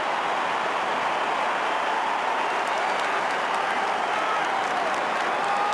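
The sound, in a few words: football stadium crowd cheering and applauding a goal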